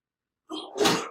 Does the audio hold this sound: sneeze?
yes